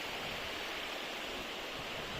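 River flowing at a coastal spot in Quezon, a steady broadband rush of water, moderately loud and continuous without voices.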